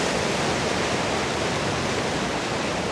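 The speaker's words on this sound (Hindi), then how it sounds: "ज़रा देखिए इस निहायत खूबसूरत नदी को, जिसका स्काई ब्लू कलर का ये पानी है" The Dawki (Umngot) river in Meghalaya flows close by with a steady, loud rush of water that never changes, and no voices are heard over it.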